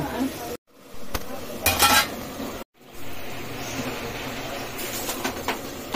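Washed rice tipped into a pot of boiling water: clattering pot and utensil clinks, a pouring swish and bubbling, broken by two short silent cuts, with soft background noise.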